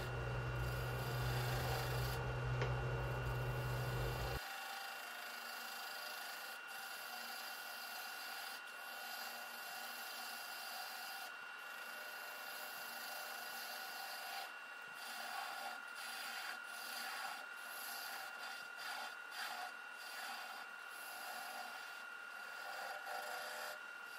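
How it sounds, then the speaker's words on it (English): A 3/8 spindle gouge cuts the bottom of a wet-wood vase on a lathe, giving a continuous scraping hiss with small irregular scratches. A louder low motor hum at the start drops away after a few seconds. "Now I'm just using a 3/8 spindle gouge"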